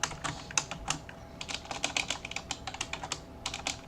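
Keystrokes on a computer keyboard while writing Java code for a console tic-tac-toe game, a quick irregular run of crisp clicks that pauses briefly near the start and then resumes, close and clear with no talking.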